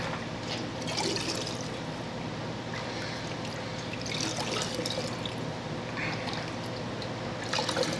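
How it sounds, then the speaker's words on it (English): Chicken broth is ladled into a glass canning jar, giving soft, intermittent splashing and trickling pours that come in small bursts and sit fairly quiet against a low background hum. "Just ladle it right into the jar."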